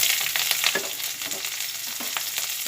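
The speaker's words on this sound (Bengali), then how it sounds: "এটা একসঙ্গে তেলের মধ্যে ভেজে নিচ্ছি।" Chopped onion and whole garam masala sizzle in mustard oil in a kadai, a dense, close frying crackle broken by the scrape and clatter of stirring.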